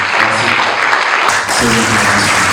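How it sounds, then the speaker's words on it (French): Loud, dense audience applause at a bioethics round-table forum, filling the room steadily for a couple of seconds, with a brief dip partway through. "Je vous prie de donner une salve d'applaudissements à cette intervention."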